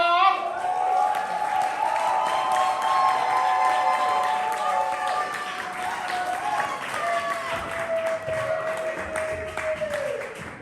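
An audience at a poetry slam applauds and cheers for a poet, with sustained whoops and voices riding over the clapping before the noise slowly tapers off.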